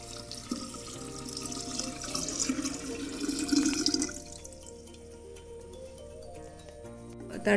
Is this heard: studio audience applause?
no